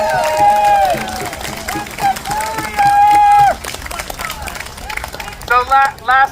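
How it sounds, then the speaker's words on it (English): A crowd at an outdoor No Kings Day protest rally in Roanoke breaks into applause and cheering, a broad wash of clapping under loud whistles and shouts, with overlapping voices through the burst. "Let's give Bridget a big round of applause."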